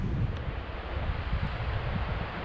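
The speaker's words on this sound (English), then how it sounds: "It's getting windy, it's going to pick up." Wind gusting across the exposed Simonside Hills in Northumberland during Storm Dennis, a steady low rumble buffeting the microphone with no voices.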